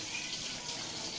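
Tap water runs steadily while chicken is washed in a kitchen, a close, continuous gushing hiss that fills the whole moment with no talking.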